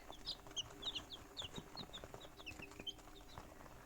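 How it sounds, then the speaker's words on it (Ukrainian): Many little chicks peep in quick, high, overlapping chirps while feeding, faint and close, over soft pecking and rustling. "Годуємо курчат."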